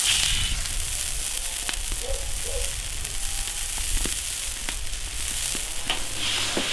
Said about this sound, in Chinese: 汤开了